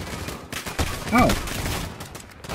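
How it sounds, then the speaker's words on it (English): Rapid gunshots from the video game Call of Duty Modern Warfare rattle in dense bursts mixed with a shouting voice, loud and close throughout. "I don't know where all the shots coming from!"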